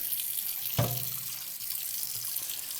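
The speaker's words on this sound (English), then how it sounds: "Then we'll clean it with water." Tap water runs steadily with a hissing rush over a non-stick pan, with a single clunk near the start as the pan is set under the stream.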